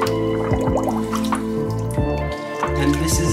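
A toy pirate ship being partially dunked in a container of water, with soft drips, splashes and gurgles under a steady background hum.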